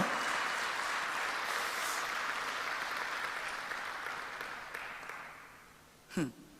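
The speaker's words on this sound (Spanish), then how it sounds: "No se un aplauso en serio, por favor," Sustained applause from a church congregation during a sermon, a dense steady wash of clapping that slowly fades out, ending with a brief sharper sound.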